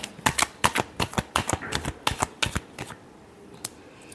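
Tarot cards riffled and shuffled by hand, a quick run of crisp flicking bursts up close for about three seconds, then a single snap after a short pause, with no talking.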